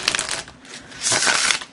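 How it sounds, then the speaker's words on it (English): A deck of tarot cards is shuffled close up, giving two short bursts of riffling, papery flutter separated by a brief pause. "Let's see how they shuffle,"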